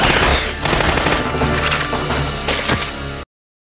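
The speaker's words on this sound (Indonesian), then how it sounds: "cacing alien yang mendekati sahabatnya dan itu membuat Henry segera melepaskan tembakan." A loud burst of rapid gunfire in a film scene, several shots cracking in quick succession over a roaring, dramatic background before it cuts off abruptly.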